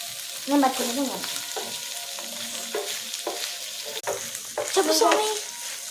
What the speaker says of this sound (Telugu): ఒక 5 మినిట్స్ చిన్న ఫ్లేమ్లో దీన్ని ఇలా మీడియం ఫ్లేమ్లో ఉంచాలి.